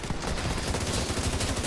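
Light machine gun fire in The Division 2, a dense, loud, continuous stream of rapid shots with no pauses.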